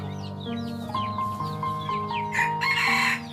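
A green junglefowl hybrid rooster gives a crow, rising and then holding a drawn-out call. Sharp chirps from other birds sound around it, and a louder burst of crowing comes near the end.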